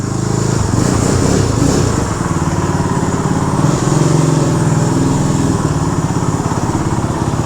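A 1965 Honda CB160 Sport motorcycle ridden indoors through a museum, its small engine running loud and close with a steady rough putter and slight swells as the throttle shifts.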